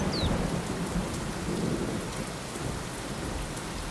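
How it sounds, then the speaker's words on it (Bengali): Sudden heavy monsoon-style rain pours down in a dense, steady hiss, with a low thunder rumble rolling underneath; the downpour stays strong and even throughout, with no voices. "কথাগুলো শেষ হতে না হতেই হঠাৎ আকাশ ফেটে মুষলধারে বৃষ্টি নামল"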